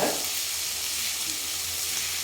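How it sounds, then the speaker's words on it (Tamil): Onion and chopped tomato sautéing in a pan for a Tamil home lunch dish, giving a steady, close broadband sizzle with faint stirring, no talk. "சேர்த்துட்டு நல்லா வதக்கிக்கலாம்"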